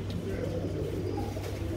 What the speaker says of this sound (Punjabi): ਇਹ ਕਬੂਤਰ ਹੈ ਜੀ।